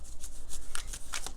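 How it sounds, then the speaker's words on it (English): A deck of tarot cards shuffled by hand in quick, crisp riffling bursts, heard close and alone over a brief stretch. "So first I want to shuffle the deck a little while so that we get the message."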